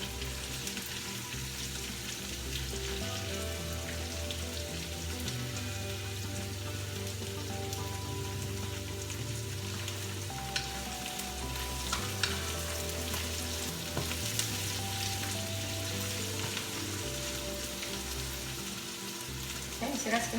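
Noodle stir-fry for pancit canton and sotanghon cooking in a pan over medium-high heat, giving a steady, loud frying sizzle with hissing crackle that runs the whole time, close up and without talk.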